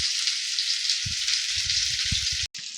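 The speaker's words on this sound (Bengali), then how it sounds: "একটু উল্টে পাল্টে ভালো করে এগুলোকে ভেজে নিতে হবে, করলাগুলোকে" Stuffed bitter gourds fry in a pan with a steady, bright sizzle of hot oil, soft low knocks as they are turned, and a brief cut near the end.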